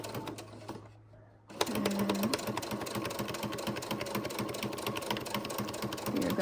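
A sewing machine stitches through a paper plate with a fast, steady mechanical whir of needle strokes. It begins after a brief pause and runs continuously at close range.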